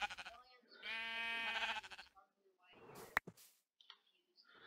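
Sheep bleat in a village-building video game, a long wavering bleat followed by shorter ones, with clicks and brief voices in between.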